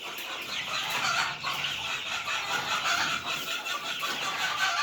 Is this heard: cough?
no